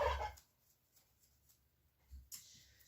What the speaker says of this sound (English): Those are my turkeys, Sisu and Rangu, and they are not happy.